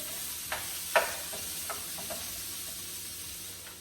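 A sweet, spicy sauce of chili paste, brown sugar and soy sauce simmers in a pan for salmon, giving a soft, steady sizzle with a few faint clicks of stirring.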